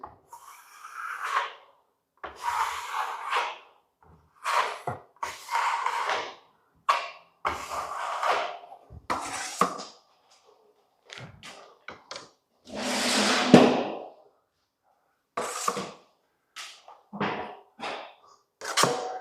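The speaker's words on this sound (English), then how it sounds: "Trowel fairly flat to the ceiling, then turn it on edge a little bit." A trowel spreads filler across a cracked ceiling in a series of short, close scraping strokes separated by pauses. The trowel is held flat, then tilted on edge.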